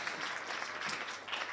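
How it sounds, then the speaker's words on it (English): Applause from the audience at an in-person UK sales leader awards event, a steady wash of clapping from many hands filling the room at moderate volume without pause. "So can we get a round of applause?"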